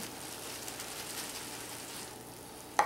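Cheater pot roast simmering in a pot, giving a steady soft sizzling, bubbling hiss that runs throughout, ending with a brief sharp clink.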